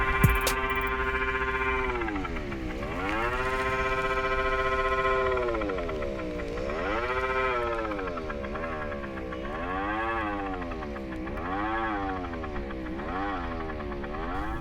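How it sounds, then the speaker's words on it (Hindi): An Ola S1 electric scooter in Bolt mode plays a loud synthetic tone that glides up and down in pitch like a wavering siren, sustained and continuous throughout, with no talk. "बोल्ट मोड भी काफ़ी अच्छा साउंड करता है, लेकिन इसका जो आवाज़ है थोड़ा सा ज़्यादा है बाकी मोड्स के मुकाबले"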